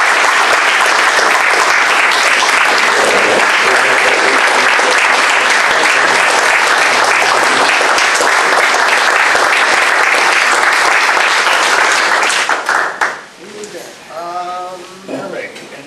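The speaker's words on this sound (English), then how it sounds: "How about a round of applause?" A room full of people at a city council meeting clapping loudly and steadily for about thirteen seconds before the applause breaks off abruptly, leaving quieter room noise and a brief voice.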